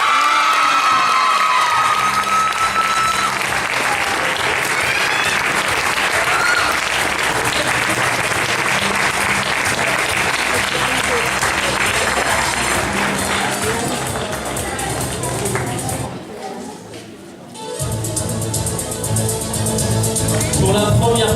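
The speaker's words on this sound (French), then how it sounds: "Je vous demande d'applaudir Leïla." A crowd at a Telethon 2014 prize-giving applauds and cheers loudly for a runner-up, sustained clapping with shouts and children's voices over music, dipping briefly near the end before resuming.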